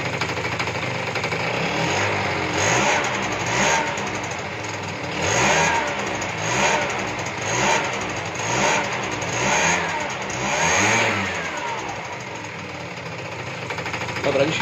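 A two-stroke scooter with a newly fitted carburetor runs close by, revving up and dropping back repeatedly in a regular rhythm of blips over a steady idle, the engine loud and continuous throughout.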